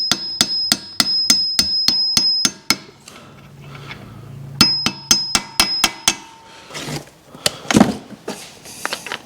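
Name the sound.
hammer pounding a bearing race into a Subaru WRX flywheel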